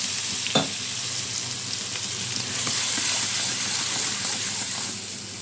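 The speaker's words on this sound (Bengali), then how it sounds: "অল্প একটু জল দিব কষানোর জন্য মশলাটা" Spice paste sizzles and crackles steadily in a pan after a splash of water, cooking with salt for a Bengali tengra fish curry with pointed gourd, shrimp and potato; one sharp spit near the start, with a continuous hiss throughout and no talk.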